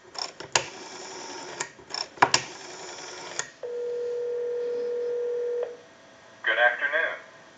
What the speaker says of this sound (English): We'll go ahead and make that call.